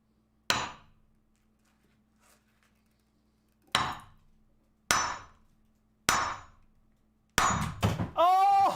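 A geode being tapped with a hammer to crack it open, five sharp solid knocks spaced a second or more apart, close and loud, followed by a short clatter and a voice at the end.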